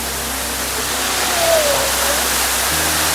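Water pours down continuously at Paladhara Panchadhara near Srisailam. It makes a steady, full, close hiss and rush that fills the whole moment, with no talk over it.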